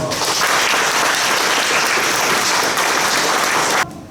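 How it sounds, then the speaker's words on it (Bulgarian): Dense, loud applause from an audience at a poetry book launch forum, a steady clapping wash that holds for about four seconds before cutting off sharply. "Аплодисменти за тях."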